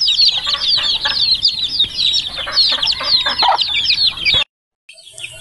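Young chicks, one white and one black, kept in an enclosure, peeping in rapid high-pitched chirps, close and continuous before cutting out abruptly near the end.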